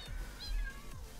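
A cat meows in the Minecraft video game, a couple of short, faint mews set against a soft backdrop of game ambience.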